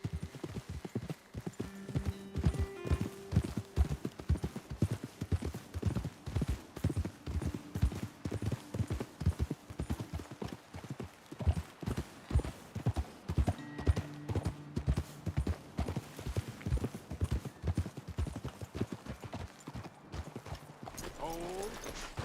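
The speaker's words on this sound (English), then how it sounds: "Best leave the horses back a bit." Horses walk along a trail in Red Dead Redemption 2, their hooves clip-clopping in a steady close rhythm throughout, with a whinny near the end and people talking over the hoofbeats.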